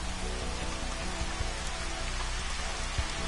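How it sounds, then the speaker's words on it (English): Rain falling at night in the video game Final Fantasy XV Platinum Demo, a dense, steady hiss of rainfall with scattered drop impacts, continuous and fairly loud with no talking. "now it's raining at night"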